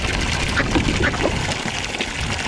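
Ducks on a farm quack repeatedly over a busy outdoor background, the calls coming in short nasal bursts at moderate distance for a couple of seconds.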